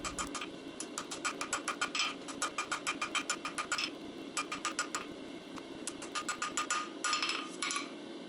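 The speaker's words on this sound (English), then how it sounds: "we're going to continue forging chamfers and put a chamfer on the tail or handle of the flint striker" A hammer forges chamfers onto the tail of a steel flint striker, ringing out in a fast, steady run of close metallic blows with short pauses between bursts.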